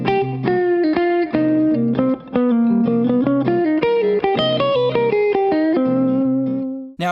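Electric guitar with distortion and effects runs a quick, winding line through a G altered scale, single notes moving up and down in steady succession before settling on a held tone, played alone.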